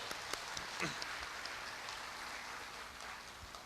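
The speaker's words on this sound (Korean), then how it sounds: "큰 박수로 격려의 뜻을 좀 전해주십시오" A dense, steady wash of applause rises from the audience at Korea University's 110th anniversary ceremony, sounding like continuous patter that holds fairly evenly throughout at a moderate distance.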